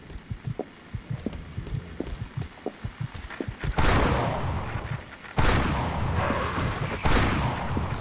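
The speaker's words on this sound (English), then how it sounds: "Using the rifle." Rifle fire in Silent Hill: Origins, three loud booming shots spaced a couple of seconds apart, preceded by a rapid, throbbing run of soft pulses resembling a heartbeat, no voice heard.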